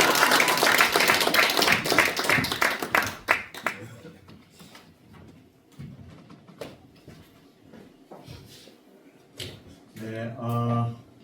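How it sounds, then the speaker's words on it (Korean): A church congregation claps for a pastor as he comes forward at a Sunday morning service, a loud burst of many hands over the first few seconds that thins into scattered claps and room noise, with a voice starting to speak near the end. "목사님 나오실 때 할렐루야 하면서 박수로 격려해 주셨으면 좋겠습니다"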